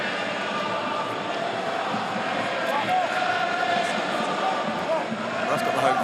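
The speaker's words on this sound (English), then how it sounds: "That's got the home crowd going early." A home crowd cheers and roars steadily at a French Top 14 rugby match between Bayonne and Clermont, a dense, sustained wash of voices with a commentator speaking over it.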